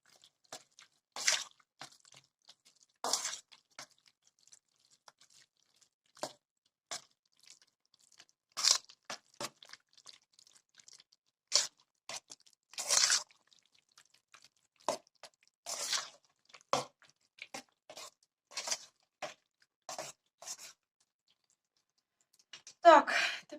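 A spoon stirs cheese cookie dough for 'vushka' ear-shaped cookies in a bowl, giving scattered short scraping and clicking strokes at irregular intervals, close and fairly quiet, separated by silent pauses.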